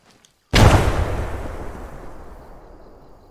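A grenade explodes in the Arma 3 video game with a single loud, sudden boom after a brief silence, then a long rumbling decay that fades over about three seconds.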